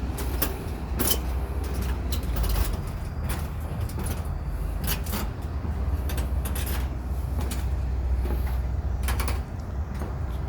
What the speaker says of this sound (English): Sorry for the squeaking and creaking here, folks. I'm like walking a gangplank.